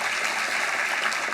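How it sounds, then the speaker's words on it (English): Staff and guests at a chamber business awards breakfast give a brief, steady burst of applause that sounds somewhat distant and even throughout. "Give yourselves a round of applause"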